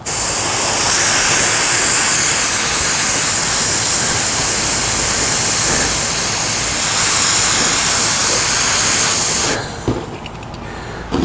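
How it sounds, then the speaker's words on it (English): An airbrush spraying paint onto plaques gives a loud, continuous airy hiss lasting about ten seconds, then cuts off abruptly, leaving softer handling noises. "this is my first time airbrushing"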